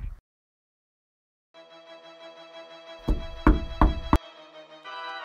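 Knocking on a door, four solid raps clustered near the end over a steady background music bed, loud and close.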